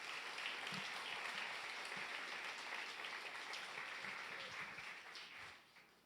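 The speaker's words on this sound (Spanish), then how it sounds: "Le damos un aplauso al Señor" Congregation applauding the Lord during a church sermon, a steady broad wash of clapping from many hands filling the room, holding for several seconds before fading near the end.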